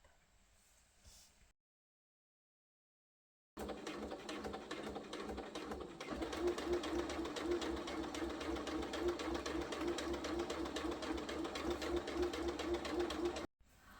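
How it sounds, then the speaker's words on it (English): A sewing machine stitches around a fabric cutlery pouch at a quarter-inch seam, a steady close whirring run of about ten seconds that follows a brief pause. "I've sewn all the way around using a 1/4 inch seam allowance"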